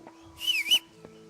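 A character whistles in the medieval role-playing video game Kingdom Come: Deliverance, a short two-note whistle with a falling then rising pitch, clear and close over a quiet background hum.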